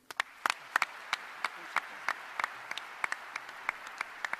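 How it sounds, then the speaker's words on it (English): Sparse audience applause for the university Chancellor at a press conference: a small group claps in scattered, distinct sharp hits that stay fairly even and moderately close throughout, with no talking over it. "please give a round of applause for our Chancellor"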